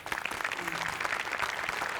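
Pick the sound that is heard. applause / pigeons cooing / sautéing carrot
applause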